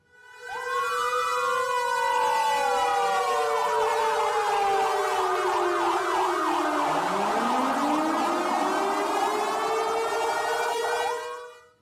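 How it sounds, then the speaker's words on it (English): A three-minute memorial siren sounds in Banda Aceh for the anniversary of the 2004 tsunami, a loud, sustained wailing tone that rises and falls in steady sweeps, heard alone without voices. "a ceremony at Banda Aceh's Baitur Rahman Grand Mosque marked the start of regional memorials with a 3-minute siren"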